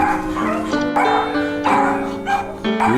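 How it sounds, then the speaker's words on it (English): Several upset puppies bark, yip and whimper close by in a continuous, overlapping chorus of high, pitched cries for about three seconds. "have some upset puppies"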